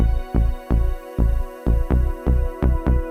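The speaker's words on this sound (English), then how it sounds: "I've also taken the liberty of loading the TX81Z system exclusive into my favourite FM synth, which sounds like this" An FM synthesizer loaded with Yamaha TX81Z patch data plays the Halcyon patch, a steady pulsing pattern of about nine short, punchy, bright notes, evenly spaced and up close, with no voices.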